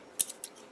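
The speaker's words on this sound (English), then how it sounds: "Use your sharp, small scissors to cut out your decals." Small sharp scissors snip out model decals with a few quick, crisp clicks close by in a quiet room, no voices present.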